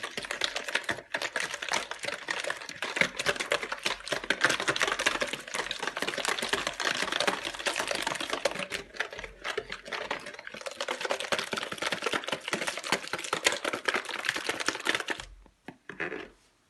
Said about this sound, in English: So now we're gonna mix the ingredients. Really well.